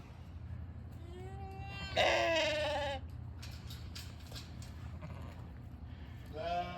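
Several sheep bleats, one loud wavering call up close in the middle and softer ones before and after, over a low steady rumble.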